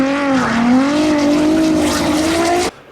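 Drift race car engine at high revs, a loud sustained whine that rises and sags as the driver modulates on and off the throttle, cutting out abruptly near the end.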